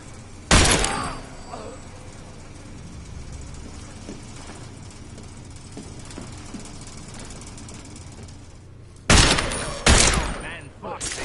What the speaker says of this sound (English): Sounded like a semi-auto.